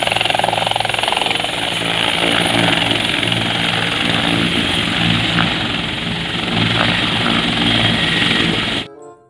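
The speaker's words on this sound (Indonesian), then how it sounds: "Yang ini helikopter TNI." A toy TNI military helicopter gives off a steady electronic rotor whir with a constant bright tone, loud and close and running almost without a break before it cuts off at the end.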